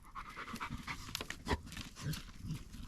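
A dog pants rapidly and steadily after fetching a ball, the quick breaths close and clear in a quiet room, with a few sharper huffs and no talking.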